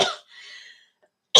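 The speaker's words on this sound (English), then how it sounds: "I have not coughed for the last 4 hours, 5 hours." A person coughs twice, one short harsh burst at the very start and another at the end, with a quiet gap between holding only a faint breathy hiss and no talking.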